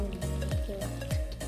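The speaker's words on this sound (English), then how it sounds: "The butter's melting." Butter melts into noodles in a pan for baked macaroni and cheese, giving a steady close sizzle with a few stirring scrapes and no voices.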